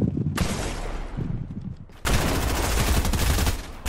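Gunfire in Fortnite: a dense burst of shots, a brief lull near the two-second mark, then a second, sustained barrage that stays loud and close to the end.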